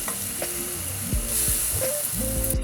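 Kashmiri chili powder and a ground paste of ginger, garlic, tomato, onion and green chili sizzle steadily in hot oil, with several soft scraping stirs.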